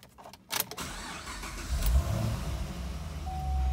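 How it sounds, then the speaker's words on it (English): A 2010 Chevrolet Camaro 2SS V8 engine cranks with a few sharp clicks, catches and roars to life, then settles into a deep, steady idle rumble nearby. "Has a great startup noise"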